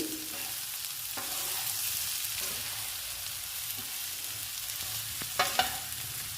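Eggs frying in an onion masala curry give a soft, steady sizzle with occasional stirring scrapes and a couple of sharper clinks near the end, quiet and close.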